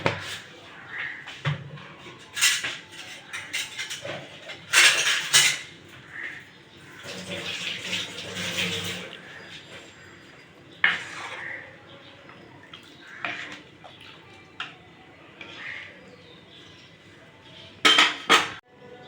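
Lentil dal with salt, cooking in a pot, is stirred with a metal utensil, giving intermittent clinks, scrapes and soft watery sloshes at close range, with pauses between strokes and no talking.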